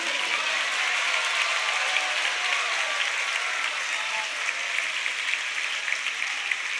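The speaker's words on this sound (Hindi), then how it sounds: "जोरदार तालियां अब बजनी चाहिए" A large crowd at a Jain Panchkalyanak consecration festival in Hanumantal, Jabalpur claps loudly and continuously, a thick, unbroken roar of applause with no pause.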